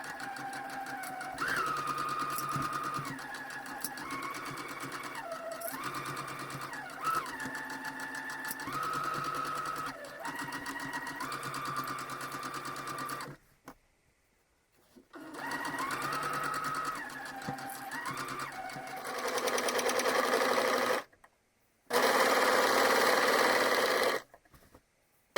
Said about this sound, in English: now I've pinned the side seams together, both sides, and they're ready to be sewn